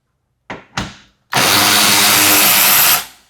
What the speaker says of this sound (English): We have 4 10mm bolts across this front side that we need to remove.